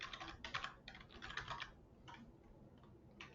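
Quiet rapid keystrokes on a computer keyboard as HTML code is typed, a steady patter of clicks close by in a short run that trails off.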